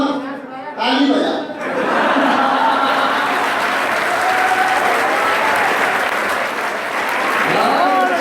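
An audience at a Hindi poetry recital breaks into loud, sustained applause that fills the hall after a brief moment of laughter and murmuring at the start.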